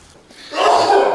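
One loud, close sneeze bursts out suddenly after a moment of quiet room noise, alone with no talk around it.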